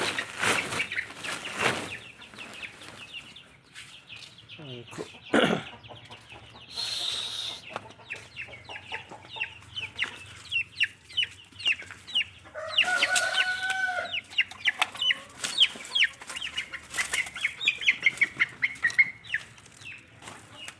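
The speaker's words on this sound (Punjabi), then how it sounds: "ਜਿਹੜੇ ਛੋਟੇ ਚੂਚੇ ਸੀਗੇ ਹੁਣ ਉਹ ਵੀ ਕਾਫੀ ਵੱਡੇ ਹੋ ਗਏ ਸੀਗੇ" Grown chicks and hens cluck and chatter nearby while a rooster crows, with occasional wing flaps, the calls coming in irregular bursts with no talking.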